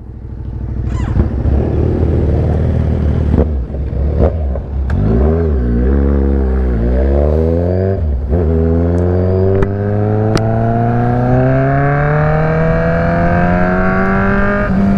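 A motorcycle engine revs hard and repeatedly nearby, climbing through rising pitches between short drops, loud and continuous.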